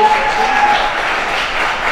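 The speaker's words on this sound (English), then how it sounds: "Another round of applause, please." Applause from a festival audience thanking a set design team, a steady diffuse crowd clapping heard at moderate distance, brief and even.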